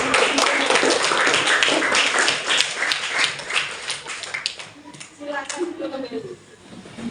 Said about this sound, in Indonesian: Beri tepuk tangan untuk kelas